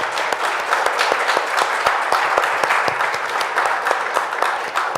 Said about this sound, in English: I would like to applaud Françoise.